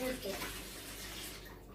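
Steady broadband rush of water pouring from a tap, continuous and close, with a brief murmur of voices at the start.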